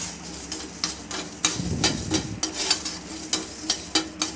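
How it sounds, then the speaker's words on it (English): Coriander seeds being lightly roasted and stirred in a pan, rhythmic rattling scrapes over a soft sizzle, close up with no speech. "Coriander seeds and slightly roast it."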